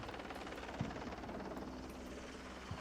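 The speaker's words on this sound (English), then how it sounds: "Apache coming in again." Apache attack helicopter in a military video game, a steady continuous rotor and engine drone heard from a distance, even and unbroken throughout with a couple of faint thumps.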